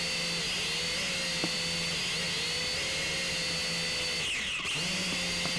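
A Dowellin DWI DF32 FPV drone in flight outdoors, its steady high-pitched propeller whine continuous and close with small shifts in pitch, briefly dipping near the end.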